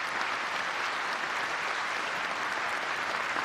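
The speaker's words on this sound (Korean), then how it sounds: "여러분 큰 박수 부탁드리겠습니다" A large audience at a national Independence Movement Day ceremony claps in a steady, even roar of applause that holds throughout.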